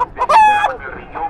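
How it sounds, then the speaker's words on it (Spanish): A fighting rooster of Giro Grey stock crows loudly and close at a Mexican open-air animal market, its harsh stretched call sliding down in pitch, with brief clucks and quiet market noise around it. "grabando aquí los gallos, miren, que encontramos aquí en el tianguis del Moralillo"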